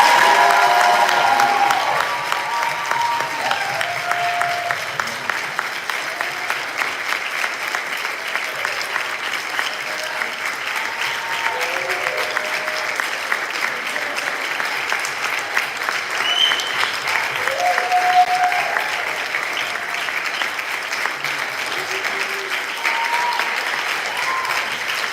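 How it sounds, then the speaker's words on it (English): Sustained audience applause at a spring concert, a long, steady roar of clapping from a crowd with occasional cheers and scattered voices rising through it. "Just another round of applause for that."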